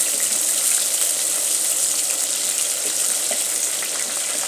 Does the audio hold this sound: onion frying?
yes